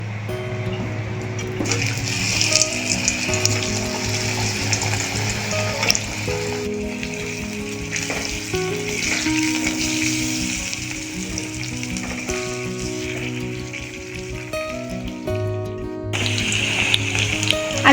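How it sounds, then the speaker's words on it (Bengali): Potatoes frying in hot oil with a little cinnamon and cardamom, a steady close sizzle with occasional stirring scrapes, continuous for the whole stretch. "এবারে আলুগুলো ভেজে নেব।"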